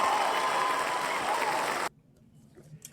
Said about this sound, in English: Stand up and cheer.